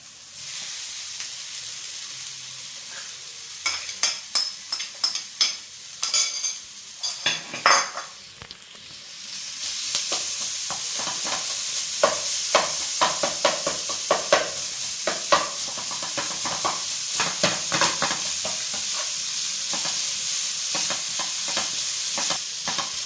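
Shredded boiled chicken stir-fried with sautéed capsicum in a pan: a spatula clatters and scrapes repeatedly against the metal, then a steady loud sizzle of frying takes over with continued stirring clinks, no talk.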